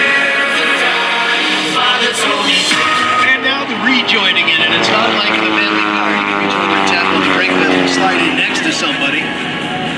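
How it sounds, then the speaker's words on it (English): Propeller aircraft engines at the NAS Oceana air show drone loudly and continuously with shifting pitch as throttle and propeller pitch change, a voice talking over the roar. "This means throttle changes, changing the pitch of the propeller."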